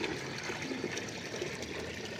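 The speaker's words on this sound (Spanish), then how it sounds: "Estamos sacando un poco de agua porque" Excess water trickles and pours out of an overfilled betta fish pond, a faint steady dribbling splash that continues without a break and without voices.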